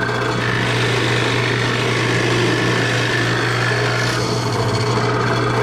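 A drill press bores down into a thick piece of wood, giving a steady loud whirring grind with rough cutting texture that continues throughout, with no talk.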